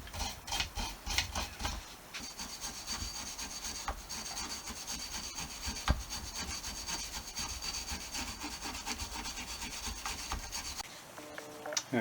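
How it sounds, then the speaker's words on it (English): Wire brush scrubbing old grease off a vintage Evinrude 4hp outboard engine, a close, continuous rasping scrape of rapid back-and-forth strokes lasting about eleven seconds with no talk. "Just a gentle brush down with a wire brush."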